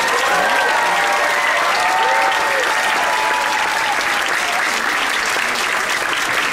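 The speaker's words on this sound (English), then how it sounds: "Please give this amazing team also a big round of applause." Audience applause at a formal dinner aboard the cruise ship Odyssey of the Seas, loud, steady and dense from start to finish, with faint cheering mixed in.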